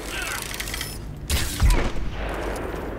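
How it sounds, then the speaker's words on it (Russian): Explosive arrows fired from a bow in Crysis 3 set off a couple of loud, booming blasts amid gunfire-like crackle, rising sharply over the background game noise. "У нас же есть лук. С взрывными стрелами."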